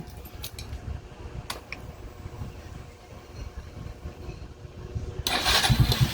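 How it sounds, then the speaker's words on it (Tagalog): A motorcycle engine turns over amid low mechanical clatter, then fires and catches, settling into a loud, rumbling idle close by. "Testingan tayo ngayon ng makina"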